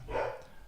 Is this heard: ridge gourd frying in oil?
no